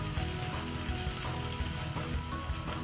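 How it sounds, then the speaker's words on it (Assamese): Onions and garlic frying in a pan give a continuous close crackling sizzle with small popping bursts throughout, steady in level and with no talk. "পিঁয়াজ আৰু নহৰুখিনি অকণমান দেৰি লৰাই থাকিব"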